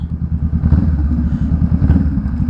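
A Honda Rebel 500 motorcycle engine idles and revs close by with a throbbing, uneven low pulse and mechanical clatter, rising briefly as the throttle opens.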